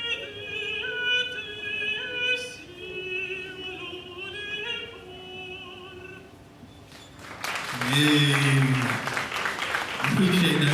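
Audience applause at a live performance at Carson-Newman University, a burst of clapping rising suddenly after a stretch of speech and continuing loudly to the end, with a voice talking over it.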